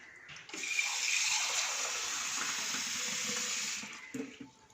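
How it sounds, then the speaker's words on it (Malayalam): Steady stream of two cups of water pouring into a cooking pot for boiling palm sprouts, about three seconds, a continuous rushing splash that ends with a few clinks. "ഇനി ഈ പാത്രത്തിലേക്ക് നമുക്ക് 2 കപ്പ് വെള്ളം ഒഴിക്കാം"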